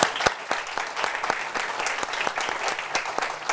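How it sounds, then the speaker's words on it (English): An audience applauds panelists at the close of an international cooperation round table, steady clapping with sharp individual claps standing out throughout, fairly close and without talk. "Don't leave without an applause to our panelists."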